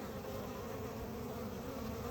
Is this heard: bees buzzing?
yes